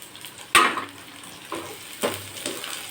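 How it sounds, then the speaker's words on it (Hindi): Onions sizzle in hot oil in a pan for a moringa leaves sabji, a loud burst as they hit the oil, then steady frying hiss broken by a few stirring scrapes of a spoon against the pan. "और उसके बाद फिर प्याज डाल देते हैं।"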